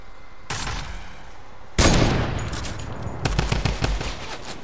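Fortnite gunfire: a sharp burst of shots, then a louder blast, then a rapid rattling volley of close automatic fire.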